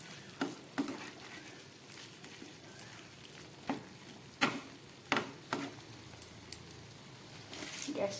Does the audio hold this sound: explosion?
no